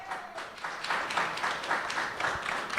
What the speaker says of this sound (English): If we could try to minimize the applause, we want to try to keep things moving